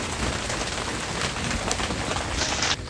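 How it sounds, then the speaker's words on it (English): Hail pelting down during a Christmas-time thunderstorm on public land, a dense, continuous roar of hard impacts close by, steady throughout before easing slightly at the very end. "It's right on top of me now, and it's hailing at Christmas time."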